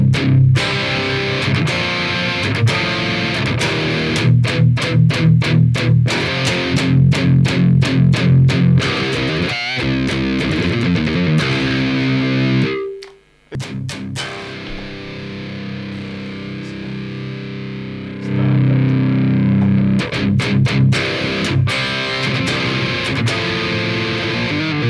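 An electric guitar plays through the Amplitube Soldano SLO-100 amp model on its default settings, giving a loud, heavily distorted tone. Chugging rhythmic riffs and sustained chords run throughout, broken by a brief stop in the middle before playing resumes.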